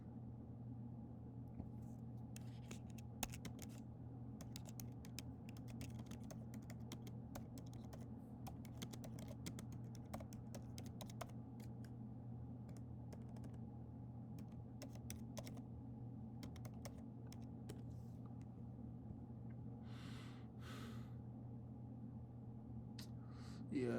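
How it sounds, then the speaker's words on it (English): Steady typing on a computer keyboard, quick irregular clicks over a constant low electrical hum, with no voices. "I don't know if I'm typing in right"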